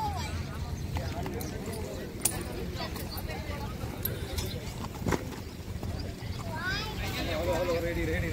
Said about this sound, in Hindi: सभी घोड़े को अभी सामान निकाल दिया गया है और अभी नहला रहे हैं